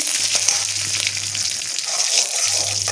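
Curry leaves sautéing in oil, a bright continuous crackling hiss close up under a faint low hum, steady across the short moment.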